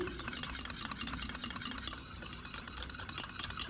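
Curd mixed with mango juice is stirred in a bowl for a mango sweet, giving continuous scraping and swishing strokes at close range, alone without speech.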